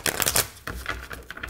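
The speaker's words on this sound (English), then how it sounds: "Let's give it one more shuffle" A tarot card deck shuffled up close, giving rapid flapping, rustling bursts that start loud and dense, then break into shorter clustered riffles, with no speech over them.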